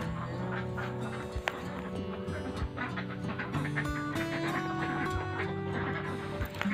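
A flock of egg-laying ducks on a small farm of about a hundred birds, quacking steadily and overlapping throughout, close and fairly loud with no talk.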